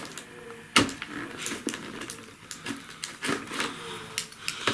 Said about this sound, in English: And I'll take off the sellotape.